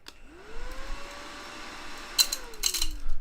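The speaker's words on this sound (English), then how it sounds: "It's a desk vacuum." A small bug-shaped desk vacuum whirs up to a steady high motor whine, holds it, then winds down, with a few handling clicks and rustles near the end.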